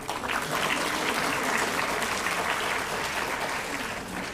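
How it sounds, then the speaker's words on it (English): A conference audience in Bengaluru claps together, a broad, continuous roar of applause filling the hall, steady and fairly loud before tapering slightly at the end, with no voices. "but we can still clap."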